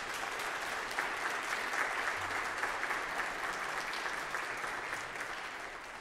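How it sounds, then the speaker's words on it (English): A church congregation gives a sustained round of applause for a handbell ensemble after morning worship, dense continuous clapping that tapers slightly at the end. "How about giving a round of applause for them and helping us to worship this morning?"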